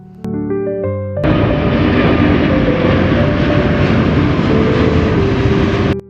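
An airplane flies low overhead near Dubai, its jet roar swelling suddenly and holding loud and steady, with a faint tonal whine underneath.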